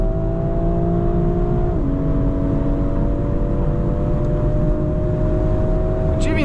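Hard acceleration in a 2019 BMW X4 M Competition SUV on an unrestricted German autobahn stretch, heard from inside as a loud steady roar of engine and road with a rising tone and a shift partway through.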